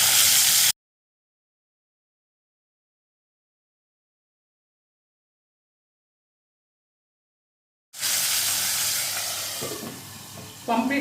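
Marinated pomfret fish frying in oil under a cover, a bright hissing sizzle that cuts out completely for several seconds and then returns steady and close, with soft clatter near the end.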